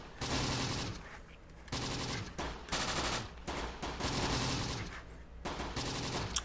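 Sustained volleys of small-arms and machine-gun fire from the Close Combat war strategy game, loud and dense with brief gaps between bursts, no talking.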